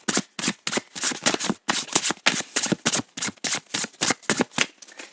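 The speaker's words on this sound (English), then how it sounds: "let me shuffle it for you guys by the microphone" A deck of cards is shuffled close by in quick repeated riffles, each burst crisp and papery, coming in a steady rhythm with short gaps between.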